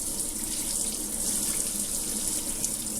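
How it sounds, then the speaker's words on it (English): A gentle sink sprayer runs lukewarm water in a soft, continuous hiss like light rainfall, steady and close for the whole stretch, with no talking. "I'm going to turn the water on"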